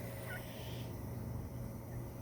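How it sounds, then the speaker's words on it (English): Farm turkeys gobble and chatter in a short burst of rough, warbling calls over a dense, steady background of bird noise, with no voices. "turkeys have been probably one of the most interesting critters on this farm"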